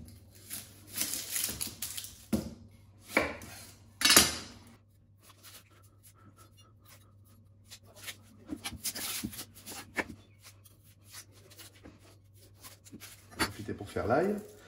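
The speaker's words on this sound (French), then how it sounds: "on se fait nos oignons" A knife chops onions on a cutting board in a home kitchen, irregular bursts of crisp, close taps and scrapes separated by pauses, while someone speaks French intermittently.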